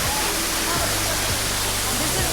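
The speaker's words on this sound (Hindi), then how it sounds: "आप पानी के प्रेशर की आवाज़ को डेफिनेटली सुन सकते हो।" Waterfall at Bhagsunag near Dharamshala, a loud, steady broadband rush of falling water filling the whole short stretch, with low rumbling undertones and no break.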